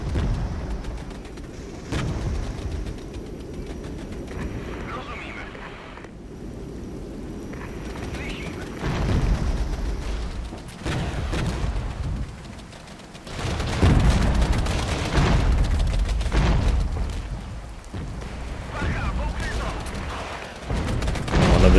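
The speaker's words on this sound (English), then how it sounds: "One of the T-72s got killed by artillery." Artillery barrage in the Regiments war game pounding T-72 tanks, dense rumbling booms and rolling gunfire throughout, loud and continuous with heavier blasts in bursts, mixed with other battle noise.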